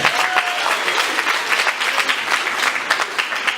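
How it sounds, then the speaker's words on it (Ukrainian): Loud, crowded applause fills a concert hall at the Belarusian State Economic University as the audience welcomes the competition jury, a continuous burst of clapping lasting a few seconds with no talk over it. "мы рады приветствовать громкими аплодисментами"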